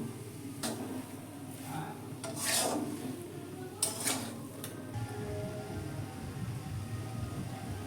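Spoon stirring a pointed gourd pakora mixture in a pan, with a few scattered scrapes and clinks against the metal over a low background hum, fairly quiet and close.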